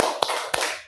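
A class joins in a rhythmic spirit-clapping chant in a primary classroom, two sharp collective claps standing out over a loud, noisy wash of voices and movement that fades out at the end.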